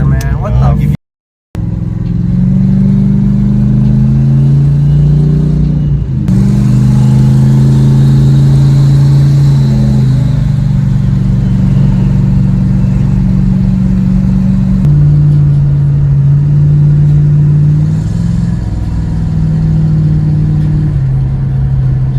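Big-turbo LS V8 in a 2003 Nissan 350Z making about 1100 hp, heard from inside the car as it pulls hard through rising and shifting engine tones, loud and droning, with a brief cut near the start.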